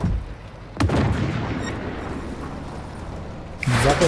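Two heavy cannon blasts from a PTL-02 tank in a video game, one shortly after the start and another near the end, each a sharp boom followed by a long rumbling decay.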